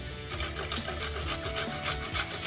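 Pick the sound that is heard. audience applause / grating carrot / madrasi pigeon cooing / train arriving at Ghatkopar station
grating carrot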